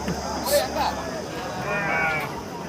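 Sheep bleat a few times over background murmur at a livestock market, with some bleats overlapping and others brief and distant.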